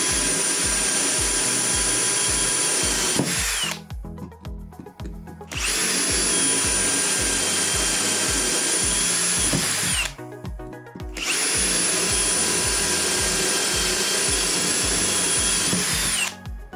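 A Villager VPL 8120 cordless hammer drill running at about 2000 rpm and boring into a workpiece clamped in a vise over a metal plate: three long, loud, steady high whines with short pauses between them, close by.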